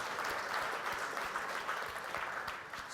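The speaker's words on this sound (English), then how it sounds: "Let's give them an applause" An audience at the SVOD 2017 event applauds the team for putting on the show, a steady wash of many hands clapping that holds at an even level throughout, with no voices over it.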